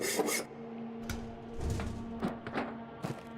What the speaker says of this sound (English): this sawing is really loud